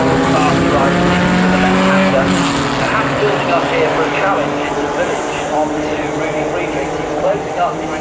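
A historic pre-1966 Grand Prix race car at Silverstone revs loud and close, its engine note rising and wavering as power is fed in, with tyre noise and a commentator talking over it throughout.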